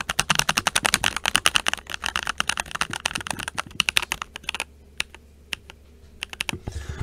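Rapid, clacky keystrokes on a NuPhy Halo96 mechanical keyboard with Baby Kangaroo switches, a steady flurry that thins into a few isolated key presses near the end.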